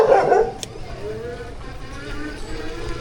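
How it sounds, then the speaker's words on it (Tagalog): A dog barks sharply a couple of times at the start near a Marikina bike lane, then traffic noise and distant street sounds carry on, with people talking nearby. "May aso."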